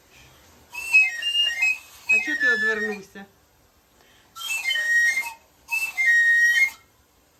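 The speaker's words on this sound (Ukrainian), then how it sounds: "Тільки що сходили і купили йому таку свистульку." A child blows a toy whistle in bright, shrill bursts, with four separate toots and a short pause between, close and loud. A voice speaks briefly between blows.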